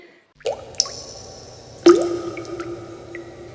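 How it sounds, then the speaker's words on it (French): Single water drops fall and splash, each a distinct, bright plink with a short ringing tail, two clear drips spaced over a few seconds in a quiet space. "Une goutte d'eau est tombée du ciel, et sur mon carreau là elle ruisselle."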